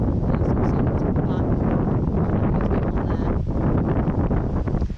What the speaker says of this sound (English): there is a lot of noise, probably because of the wind